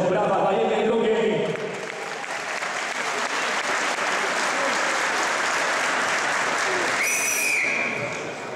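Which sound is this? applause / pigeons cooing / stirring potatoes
applause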